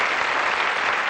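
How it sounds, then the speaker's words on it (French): A television studio audience applauds: dense, steady clapping that fills the whole short stretch at close range and loud. "Je vous demande de l'applaudir aussi"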